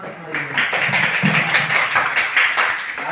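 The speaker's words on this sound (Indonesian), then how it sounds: "tepuk tangan untuk mereka" A classroom of students claps and applauds steadily and close by, with a dense patter of many hands and a voice or two underneath.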